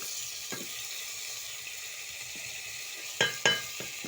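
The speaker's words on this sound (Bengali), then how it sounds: "পেঁয়াজটা ভাজা ভাজা হয়ে এসছে, এবার আমি এর মধ্যে আদা বাটাটা দিয়ে দিলাম।" Soft, steady sizzling of onions and ginger paste frying in a pan, with a few louder clinks and scrapes of a utensil near the end.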